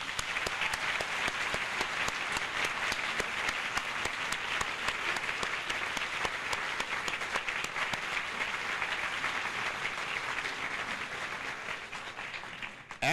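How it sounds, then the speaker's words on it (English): Sustained audience applause for young graduating students on stage at a high school baccalaureate, dense and steady clapping throughout that fades slightly at the very end. "one final hand of applause for every young man and woman on the stage"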